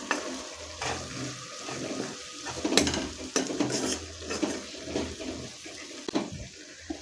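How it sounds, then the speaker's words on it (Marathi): Garlic fries in a pan as a spoon stirs it, producing a continuous soft sizzle broken by repeated scraping and stirring strokes, close and fairly loud. "लसूण आहे तो चांगला लाल होईपर्यंत परतून घ्यायचा आहे"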